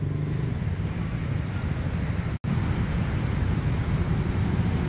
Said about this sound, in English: And typical Bangkok traffic.